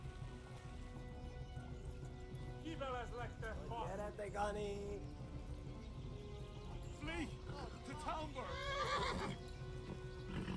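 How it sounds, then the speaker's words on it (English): A horse in the video game Kingdom Come: Deliverance whinnies twice in shrill, wavering neighs over steady background noise, with faint hoof clatter and someone speaking at moments. "¡Caballo!"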